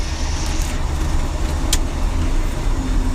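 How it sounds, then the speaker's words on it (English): A tractor hauling a load of corn strains uphill, its engine a steady, loud, low drone that stays close and unbroken throughout, with no talk. "this tractor doesn't really like pulling uphill"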